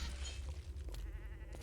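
A goat in a video game lets out a short, faint, nasal bleat with a brief clattering burst, lasting under two seconds and heard alone.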